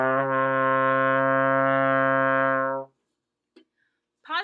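A trombone holds a steady low C in sixth position for nearly three seconds, then cuts off into silence, with a faint breath or movement noise afterward.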